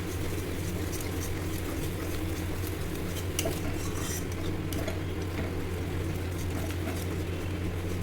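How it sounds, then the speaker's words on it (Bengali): A spoon scrapes and stirs ground cashew, melon seed and white sesame spice paste with hot water in a pan, steady close clinks and scraping over a low background hum, no voices. "একটু গরম জল ছিল, গরম জলে দিয়ে একটু ভালো করে নাড়াচ্ছি"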